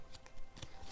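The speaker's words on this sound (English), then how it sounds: "It's very hard to shuffle them." Tiny Lenormand cards are shuffled in quick, soft, papery riffles, several brief flutters in a second, close and quiet with no talking.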